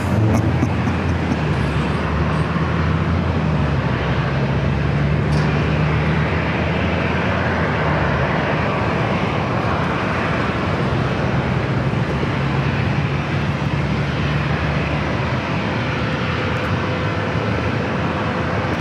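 A Speedbird heavy airliner at San Diego airport gives a steady, loud engine roar and rumble that holds without break, with a low droning tone running under the broadband noise.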